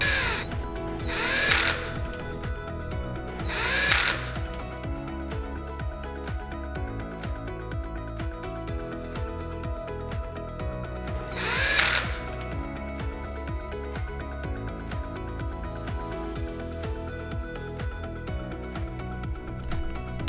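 Screws being driven back into a 1U server chassis after reseating a controller riser: a power driver whirs in three short, loud bursts, with steady mechanical noise and faint rattling between them.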